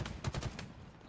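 Sniper rifle fire in a Halo match landing a headshot, heard as several sharp, close gunshot reports in quick succession amid busy in-game battle noise.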